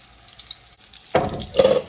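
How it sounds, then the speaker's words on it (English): Chicken kofta meatballs shallow frying lightly in oil in a pan: a quiet lull, then two bursts of close sizzling and spitting as the meatballs go in, with no talk. "we are just shallow frying them lightly"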